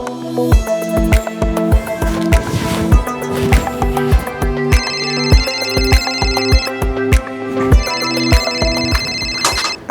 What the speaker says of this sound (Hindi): अरे माँ का फ़ोन।